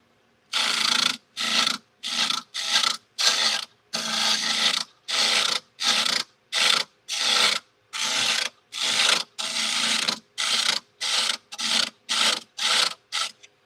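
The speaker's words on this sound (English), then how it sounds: "I'm scraping that wall right where that break was" A woodturning tool scrapes the inside wall of a spinning turned piece in about twenty loud, rasping strokes separated by short silences, close up with no voices.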